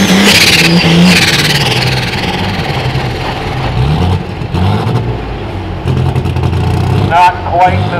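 An alcohol-fueled super stock tractor at a nighttime tractor pull roars and revs loudly up close, its engine note rising and falling with sharp bursts, while an announcer talks over the PA.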